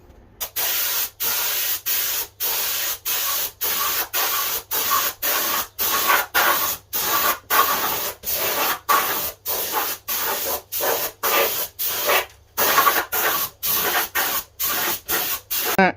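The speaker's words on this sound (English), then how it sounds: "That is the bonnet all sprayed now." Short bursts of spray paint hiss as grey primer is sprayed onto a rust-repaired Mk3 Golf GTI bonnet, about two dozen rhythmic close pulses separated by brief pauses.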